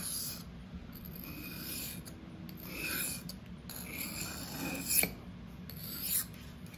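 A REX-45 steel knife blade is sharpened freehand on a stone, producing steady, close rasping strokes in a rhythmic back-and-forth pattern, fairly quiet with a few louder swipes.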